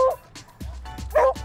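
Dogs at an animal shelter adoption event give several quick yapping barks and whimpers in a short burst, close and fairly loud.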